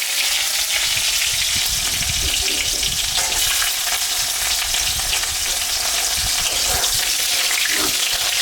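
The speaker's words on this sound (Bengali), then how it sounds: "জিরা, শুকনো লঙ্কা আর তেজপাতা আছে, এটা আমি সম্বরা দিলাম।" Cumin, dried red chili and bay leaf spit and crackle in hot oil, a loud, continuous close-up sizzle with bursts of popping throughout.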